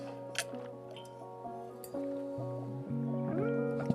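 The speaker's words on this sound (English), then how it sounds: "Let me just drink some water." Someone takes a drink of water: wet gulping and squishy swallowing sounds, close and soft, over faint background music.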